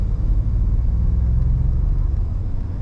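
A 2021 Ford F-150 Tremor with a 3.5-liter engine gives a low, steady rumbling hum as it picks up speed, heard from inside the cab, loud and continuous with no talk.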